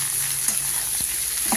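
Beans fry in a pan with a strong, close sizzle, broken by a few short scrapes and taps of stirring over a brief stretch.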